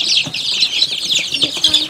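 Ameraucana hens on a small farm cluck and chatter close by in a busy, continuous flock, with brief rustles that may be wing movement.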